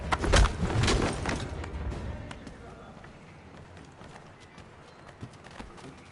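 Horses trotting in Assassin's Creed 3 Remastered, a loud burst of clip-clop hoofbeats early on that fades into faint ambient game noise.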